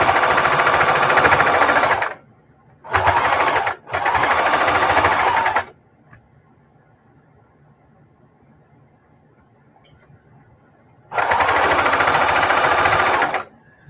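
A sewing machine stitching a mitered quilt binding, running in loud close bursts of rapid mechanical chatter separated by quiet pauses, with a long gap of near silence before a final run.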